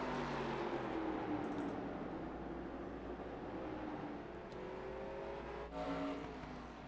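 Race cars in a national series event at Stafford, a continuous distant engine roar with rising and falling pitch as cars circle the track, steady and fairly faint throughout.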